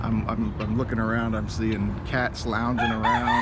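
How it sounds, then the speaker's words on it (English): A rooster crowing on a farm, heard faintly in the background beneath someone talking steadily nearby. "You hear the rooster in the background."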